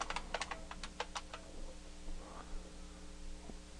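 Fingers tap quickly on a computer keyboard, a short burst of close clicking keystrokes over a faint steady room hum, then the typing stops.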